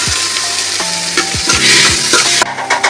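Tomato dropped into a hot pan and fried while being stirred with a utensil for a chicken dish, giving a loud, close, steady sizzle with rhythmic scraping strokes and low knocks, and no speech.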